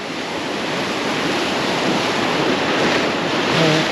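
Ocean waves wash over the rocks at Ben Buckler, Bondi, a continuous loud roar of surf and churning water with wind buffeting the microphone.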